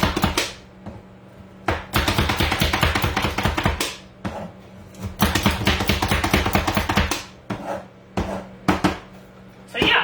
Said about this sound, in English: you can definitely just chop up your cauliflower like that